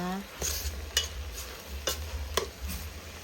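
Pork belly is stir-fried in oil in a pan, with a low sizzle broken by several sharp spatula scrapes in an uneven rhythm, close and brief.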